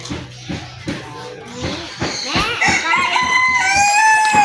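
Chickens cluck in a quick repeated rhythm close by, then a rooster breaks into a loud drawn-out crow at the end, with people talking faintly in the background.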